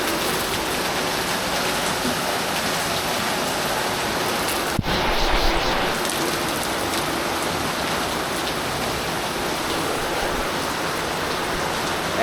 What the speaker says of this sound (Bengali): এখন বাজে 10টা আর মুষলধারে বৃষ্টি হচ্ছে, প্রায় আধ ঘন্টা উপরে টানা বৃষ্টি পড়ছে।